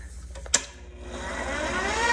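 A stand mixer's whisk attachment clicks into place with one sharp metallic snap after a few faint clatters, then a rising whir as the mixer runs for cake batter.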